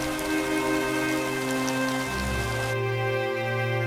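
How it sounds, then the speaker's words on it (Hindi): Heavy rain pours steadily, a dense hiss of drops drumming on surfaces, loud and continuous with no voices. "बाहर बहुत तेज बारिश हो रही थी।"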